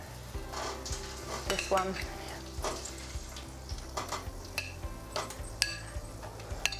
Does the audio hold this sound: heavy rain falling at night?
no